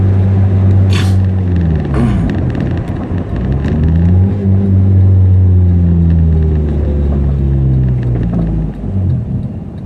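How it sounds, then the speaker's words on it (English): A turbocharged Subaru engine revving, loud and close, its deep rumbling drone rising and falling in pitch through several sweeps with a couple of sharp hissing bursts, no talking. "That turbo sounds so sick."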